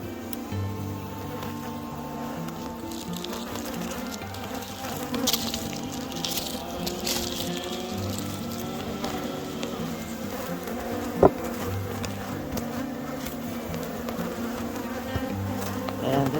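Honey bees from a strong, overwintered colony drone steadily in an opened beehive during an inspection, a dense, continuous close-up buzz with a single sharp tick partway through.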